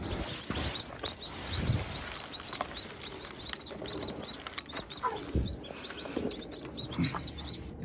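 Newly hatched farm chicks chirp in quick, high repeated peeps, faint and scattered over low rustling and a few soft knocks.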